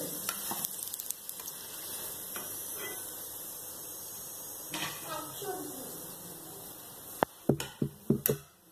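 Moong dal kachori deep-fry in oil over a medium flame, giving a steady soft sizzle throughout, followed by a few sharp utensil clinks near the end.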